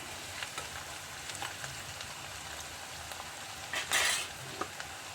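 Masala paste sautéing in oil in a pan for a green mackerel curry, a soft, steady frying hiss with a few light stirring scrapes and one brief louder burst, quiet and without talk.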